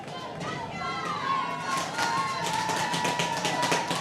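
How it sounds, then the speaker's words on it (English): Crowd of Jaguars fans in the stands at a high school regional semifinal baseball game, murmuring and shouting in disagreement with the umpire's call, a steady mid-distance rumble of many voices with scattered louder cries. "Now you hear the crowd reacting over here to my right, which is the Jaguars fans in the stands, not agreeing with the blue"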